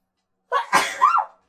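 A single loud sneeze up close, a short inhale leading into an explosive burst that trails off with a brief vocal tail.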